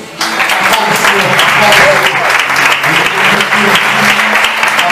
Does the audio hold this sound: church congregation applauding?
yes